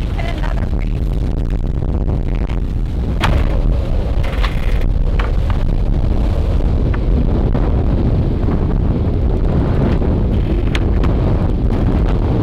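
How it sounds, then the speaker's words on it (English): Strong wind at sea aboard a sailboat heading from Mauritius toward Réunion, a loud constant roar with heavy wind buffeting on the microphone, broken by occasional clanks and knocks of rigging and hull, with no talk. "During the day, the wind continued to increase,"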